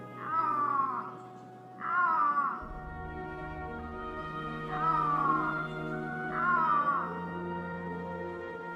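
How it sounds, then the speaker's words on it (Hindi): Iberian lynx calling in an Andalusian forest: four drawn-out, wavering cat-like yowls at steady intervals over a low continuous rumble, fairly close and clear with no talk. "यहां गूंज रही हैं सारस की आवाजें और उनके बीच दुनिया की सबसे डरावनी बिल्ली आइबेरियन लिंक्स की दहाड़ एक दहशत पैदा करती है"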